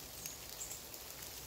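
Rain falls steadily at a campsite on the Chowan River, a dense, even patter and hiss of drops with no voices.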